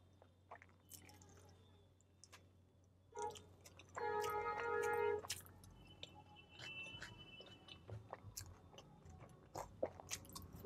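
Faint, close chewing and biting from a big mouthful of spicy chole bhature with potato eaten in a car, with a louder, squishy stretch in the middle against quiet background hum.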